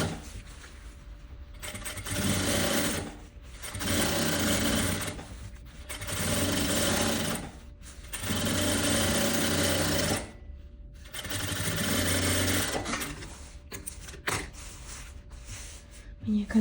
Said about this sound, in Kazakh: Төменге қарай тігеміз енді.